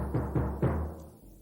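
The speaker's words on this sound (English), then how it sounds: "Another type of drum is the bass drum" Three deep, booming drum hits about a quarter second apart, each with a low resonant thump, then fading out.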